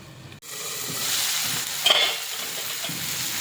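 Onions and tomatoes cooking over low heat in a pan, with a sharp knock as a lid goes on, then a steady muffled sizzle with a brief hiss midway.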